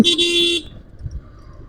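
A car horn blares in Dhaka street traffic on the route from Mohammadpur to Bashundhara, one sustained honk of about half a second, loud and close, then fading into low road rumble.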